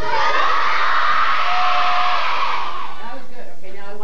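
A room of students at a school student-government inauguration yell good morning as loud as they can, a loud sustained massed shout lasting several seconds before breaking up.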